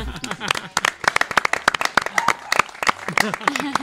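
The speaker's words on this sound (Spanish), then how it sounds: "Un aplauso a todo el equipo." A studio audience and crew applaud a production team at a television season finale, their sharp, irregular claps and cheers mixing with overlapping voices and laughter close by.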